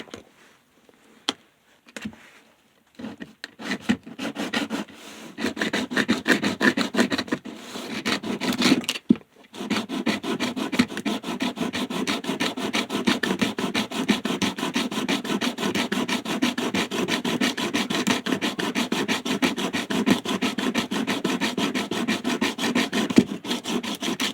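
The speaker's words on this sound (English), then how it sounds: "So, time to sand to fit." Hand sanding on wood: steady, rapid back-and-forth rasping strokes, close and continuous after a few scattered scrapes at the start.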